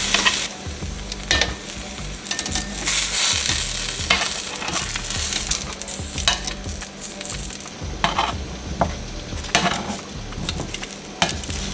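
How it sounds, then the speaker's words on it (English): Halved ginger and onion sear in a hot pan for Cambodian pho, giving a loud, continuous close sizzle with occasional crackles and the scrape of utensils shifting the pieces. "You basically just gonna sear this a little bit until you just start to see it char on both sides."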